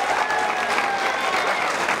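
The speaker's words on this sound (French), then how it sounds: "Je crois qu'on peut les applaudir l'un et l'autre." A crowd at the finish of the 51st Tour du Limousin cycling race applauds the winners, a dense, steady patter of clapping close by with faint crowd noise.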